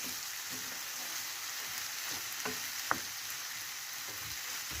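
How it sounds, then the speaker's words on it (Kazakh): Red and green bell peppers fry in a pan and get stirred, making a continuous soft sizzle with a few sharp scrapes and clicks from the stirring, alone with no talk. "жасыл болгар бұрыштарын қосамыз. Жақсылап араластырып тұрамыз."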